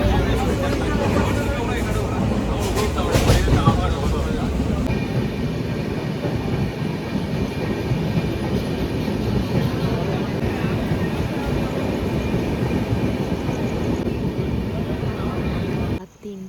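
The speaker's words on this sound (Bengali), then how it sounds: "ফাইনালি আমাদের ট্রেন ছাড়লো।" A train pulls out and runs along the tracks on the route through Kurseong to Darjeeling, a steady loud rumble with faint rattling throughout. People talk over it, and the sound cuts off abruptly at the end.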